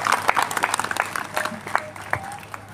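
Audience applause for a singer, a Sa Re Ga Ma Pa winner, at a Diwali Pahat concert, a dense patter of clapping that rises and falls across the moment with some voices mixed in.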